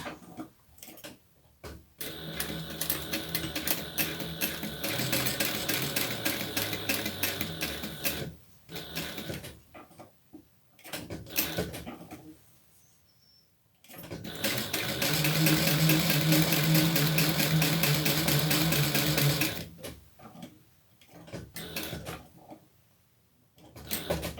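Sewing machine stitching along the edges to close up a pocket, long loud runs of fast mechanical whirring and ticking separated by quiet pauses, up close with no talk.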